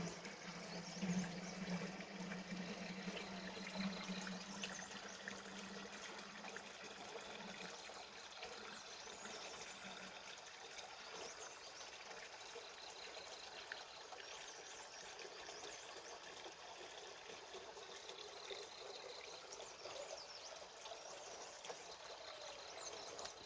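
Spring water trickles and streams steadily into a clay pot at an outdoor village spring, a continuous, moderately close flow with no talk.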